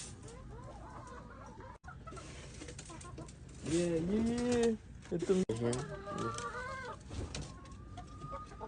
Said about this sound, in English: We're feeding the chickens.